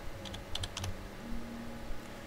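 Quick bursts of typing on a computer keyboard during a PowerPoint simulation, a few light clustered keystrokes close by, with quiet room tone between them and no talking.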